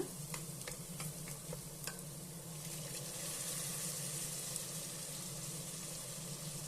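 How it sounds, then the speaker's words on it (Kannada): Garlic ginger paste fries with browned onions in a pan for an avarekalu pulao, giving a steady close sizzle with a few sharp scraping taps of stirring early on, and no voices. "ಇವಾಗ ನಾವು ರುಬ್ಬಿಟ್ಕೊಂಡಿರೋಂಥ ಬೆಳ್ಳುಳ್ಳಿ ಶುಂಠಿ ಪೇಸ್ಟನ್ನ ಇದಕ್ಕೆ ಸೇರಿಸ್ಕೊಳ್ಳೋಣ"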